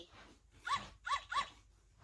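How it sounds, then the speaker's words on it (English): A puppy's recorded barks from a sound storybook, three short yappy barks in quick succession over a faint background hiss, close and alone. "the puppy"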